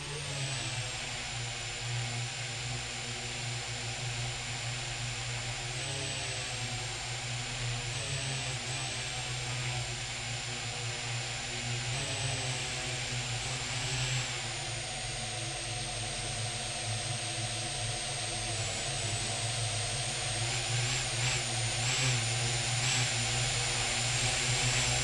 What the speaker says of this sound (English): Bring this unmanned aircraft system down as fast as I can.